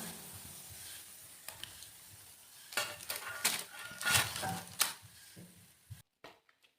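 Cauliflower pieces for gobi manchurian deep-fry in hot oil, a steady close sizzle with louder bursts and pan clatter as the batch is stirred, then cutting off abruptly near the end.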